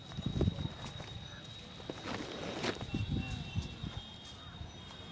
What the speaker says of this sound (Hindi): ये भी देखिए चलने वाला घोड़ा है ये सिंधी नस्ल का है